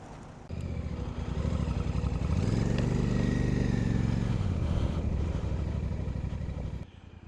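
A Royal Enfield Classic 650 motorcycle pulls away in town traffic, its twin engine rising from a low idle to a loud, close, revving drone that then eases off again.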